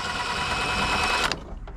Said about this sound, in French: et on va dévisser la dernière vis là